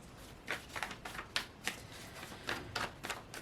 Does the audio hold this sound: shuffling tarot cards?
yes